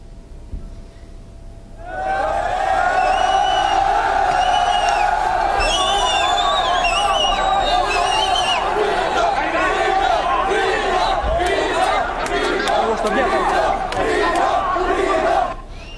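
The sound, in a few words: crowd of refugees chanting at Budapest train station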